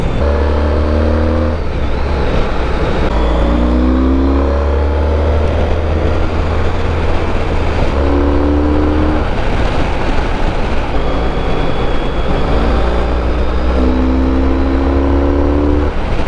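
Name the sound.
Honda ST1300 Pan European motorcycle engine accelerating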